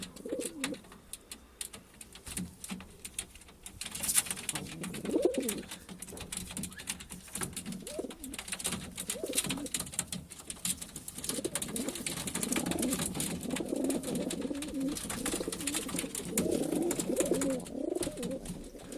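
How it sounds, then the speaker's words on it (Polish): Male pigeons coo in a loft, their soft, throaty coos overlapping continuously at a moderate distance, with faint rustling and shuffling in the background. "Także tu są inne różne gołębie"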